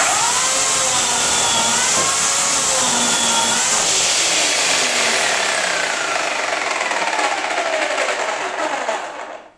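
A Bosch Universal Chain 35 electric chainsaw slices through wood, its high whining motor and chain buzz loud and close, pitch wavering under load before the saw winds down and stops at the end.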